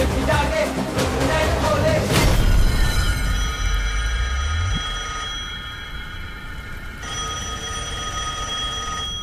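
A telephone rings in a tense Hindi-dubbed action film scene: a sustained, bright electronic ring tone that carries on steadily after a heavy low rumbling swell fades, clear and fairly close.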